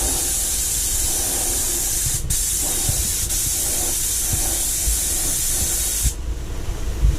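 Spray gun painting a 1995 Ford F150, a loud steady close hiss of spray that runs almost without a break and cuts off near the end.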